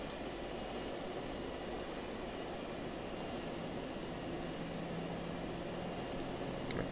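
A plane in the open-world action game Just Cause 2, its engine producing a continuous, steady drone with a faint high whine, constant in level throughout and heard alone.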